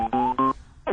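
Telephone dialing tones as a call is placed, three short electronic keypad beeps in quick succession, clear and close.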